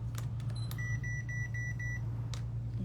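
A heat press control panel beeps as its timer is set, with a run of five short, evenly spaced electronic beeps, plus a few button clicks over a steady low machine hum.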